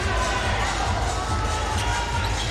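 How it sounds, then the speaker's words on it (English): A crowd in a basketball arena during a pro league game, loud, continuous and close, with shouting and cheering swelling together and a ball bouncing on the court underneath. "The friends of Lander Cannon are shouting at his teammates na ipasa sa kanya yung bola"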